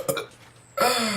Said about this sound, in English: Just burped right out.